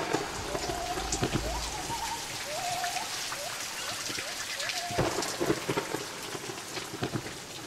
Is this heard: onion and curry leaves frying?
no